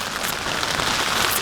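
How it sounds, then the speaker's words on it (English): Steady, dense rain pours down and patters on surfaces close by, a loud continuous hiss with no pauses and no voices over it. "Today the rain felt threatening."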